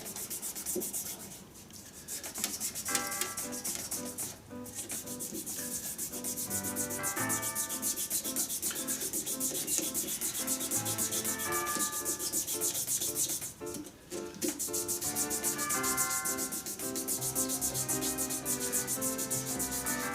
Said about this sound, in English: So these wet pads that I'm using now, I used sandpaper initially